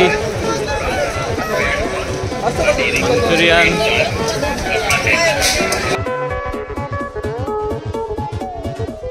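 Dense crowd hubbub at the nighttime Manaseshwar temple fair (jatra) in Konkan near Vengurla, a thick wash of many voices and chatter mixed with music and festival noise, continuous and fairly loud throughout.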